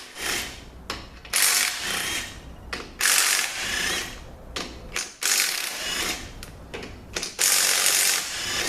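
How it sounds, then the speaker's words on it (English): A ratchet clicks in repeated bursts while removing bolts from the stator support of an 8L90 transmission during teardown, rapid close pawl clicking separated by short pauses. "we're going to get the bolts out of the stator support."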